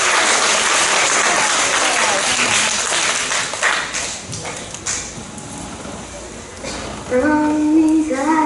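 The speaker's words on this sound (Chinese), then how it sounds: "掌声欢迎" An audience at a school talent show claps for a Snow White skit, loud and sustained applause that thins out midway, then music with singing comes in near the end.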